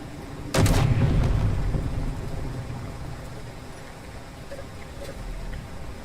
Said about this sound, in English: that's what happens when you shoot a small grid vehicle with the same gun